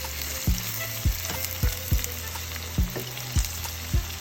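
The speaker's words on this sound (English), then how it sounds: "I got 6 shrimp in right now, just cooking, doing this thing. I have the salmon doing its thing." Six shrimp and a piece of salmon fry in a pan with a steady broadband sizzle, broken by eight or so sharp utensil taps and scrapes spaced about half a second apart, close and fairly loud with no talking.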